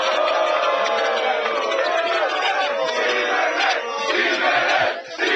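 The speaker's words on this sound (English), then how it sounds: "You better cheer him now" A large live crowd at a sports debate show taping in Las Vegas roars with sustained cheering and whooping, loud and dense throughout, dipping briefly near the end.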